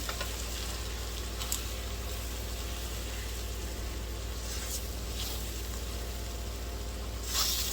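A flour roux paste for Chicken à la King sizzles steadily in a pan as it is stirred, a low continuous hiss with a few faint scraping clicks and no talking.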